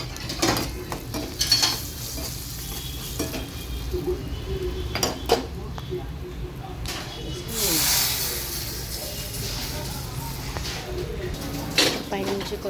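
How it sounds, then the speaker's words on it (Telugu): Mustard seeds, cumin, dried chilies and asafoetida hit hot oil for a moong dal pulusu, bringing a hissing sizzle swelling midway, mixed with pan clatter and spoon clinks as a voice talks over it. "ఆయిల్ కాగిన తర్వాత ఆవాలు, జీలకర్ర, ఎండుమిరపకాయ వేసుకొని వేసుకున్నప్పుడు కొద్దిగా ఇంగువ వేస్తాను"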